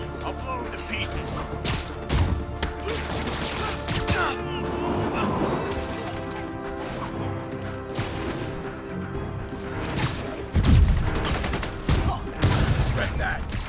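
Bursts of enemy gunfire and crashing impacts in Marvel's Spider-Man, rattling volleys that come and go over several seconds, with character voices shouting in between and over the shots.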